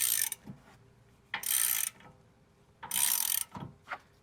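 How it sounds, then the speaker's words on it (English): A ratchet tightens a 24 mm bolt on the upper control arm of a fourth-generation Toyota 4Runner, with three close bursts of rapid clicking separated by short pauses and soft knocks. "I'm just going to use a ratchet, and then we're just going to tighten it."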